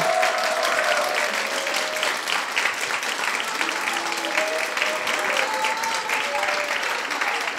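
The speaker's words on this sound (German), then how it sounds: "Dein Applaus." Steady, loud audience applause filling the whole stretch, dense clapping from a sizable crowd with a few voices mixed in, at a science slam in the Zeiss-Großplanetarium.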